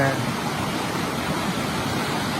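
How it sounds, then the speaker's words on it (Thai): A mountain stream with strong flow near the Khun Korn waterfall in Chiang Rai rushes steadily, a dense, even wash of water close by with no pauses. "เสียงลำธารดังขนาดเข้าน้ำมีค่อนข้างใหญ่นะครับ"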